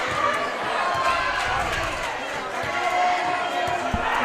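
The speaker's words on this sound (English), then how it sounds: "I can hear Lake Hamilton booing" Crowd noise from the stands at a Lake Hamilton high school varsity football game, a sustained rumble of voices with bursts of jeering and chatter. An announcer talks over it throughout.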